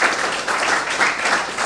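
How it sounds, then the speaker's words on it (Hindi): Audience clapping for a group of children at a community stage event, a steady wash of applause filling the short moment without any talking. "इनके लिए आप तालियां बजाएं"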